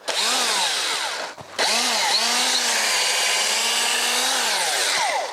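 A power drill bores holes into the trunk of a sycamore maple, whining loudly with rising and falling pitch as the bit bites the wood, pausing briefly once before drilling on steadily.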